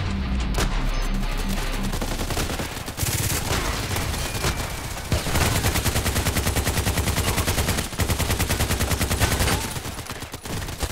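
Sustained video game gunfire, fast machine-gun bursts and single shots hammering steadily and loudly for the whole stretch, with almost no talk.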